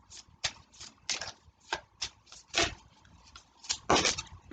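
Tarot cards being shuffled by hand, a run of crisp riffling bursts and soft slaps repeating in irregular rhythm, close and fairly loud, with no voices.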